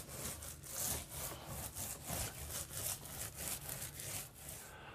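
Microfiber mini roller working Venetian plaster across a wall in random motions, a soft continuous rolling swish that pulses with each back-and-forth pass, steady and close without any voices.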